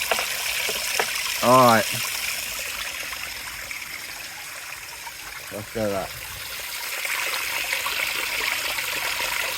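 Dirty water pours and trickles from an overflowing Henry hoover vacuum in a steady stream, with a voice speaking briefly over the flow.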